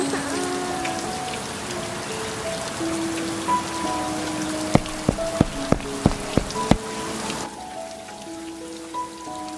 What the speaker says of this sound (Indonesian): Di sini turun hujan.